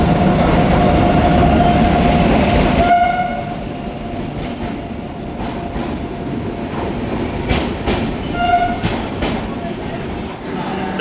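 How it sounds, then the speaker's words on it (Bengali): A train pulls into Jaipur station's platform, its loud rumbling approach fading after a few seconds into steady rolling and clatter, with a faint horn and people talking nearby. "অ্যানাউন্সমেন্ট হয়ে গেছে, ট্রেন এখনই ঢুকবে"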